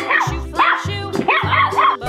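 A dog in an animal basketball video game gives a quick series of loud, close yipping barks in an even rhythm, with a whimpering quality.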